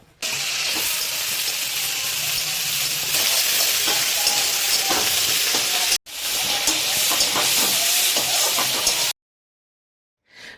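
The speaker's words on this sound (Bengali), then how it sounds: "বরবটিটাকেও সেম প্রসেসে নুন হলুদ দিয়ে ভেজে আমরা তুলে রাখব" Yardlong beans fry in oil with salt and turmeric, giving a loud, continuous close sizzle and hiss with intermittent spatula scrapes and stirring, briefly interrupted midway and ending in silence, with no voices.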